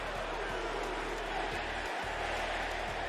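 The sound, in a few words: wrestling crowd chanting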